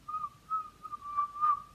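A single person whistles a clear tune in a quiet room, with several short phrases and a steady pitch, close and fairly soft, with no talking.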